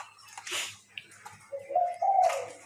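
A captive spotted dove kept as a hunting decoy gives a medium-pitched coo. A soft, breathy phrase ends in a clearer rolling call, heard up close with faint rustling and no talk.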